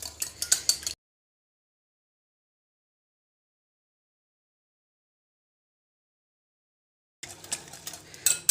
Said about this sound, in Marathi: अंड्याचं छान फेटून घ्यायचं.